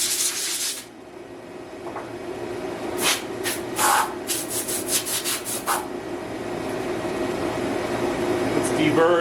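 A hand file scrapes a machined metal part held in a vise to remove burrs, giving a burst of rasping strokes at the start and then a quick series of short, close scrapes.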